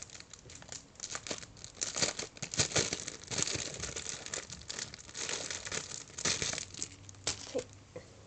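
Plastic packaging around a squishy bakery-style toy shaped like a doughnut or melon bread being torn open by hand, a steady stream of close, quiet crinkling and rustling with sharper tearing bursts throughout, with no talking.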